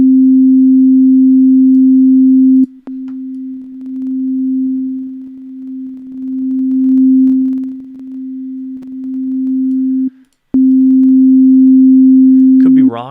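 A steady synth tone run through the Kyle Beats Drip plugin with its shape knob acting as a filter, holding a loud sustained low note that grows grainy and textured through the middle, drops out briefly twice, then ends in a swirling sweep.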